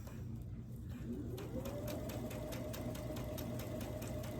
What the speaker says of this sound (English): I'm gonna take it to the sewing machine and I'm gonna sew just outside of that line.